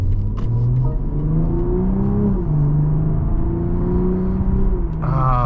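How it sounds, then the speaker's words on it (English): A 2023 BMW M340i's B58 six-cylinder turbo engine revs and pulls strongly through gears, a smooth drone rising in pitch with brief shifts, heard from inside the cabin. "Nice acceleration from that B58."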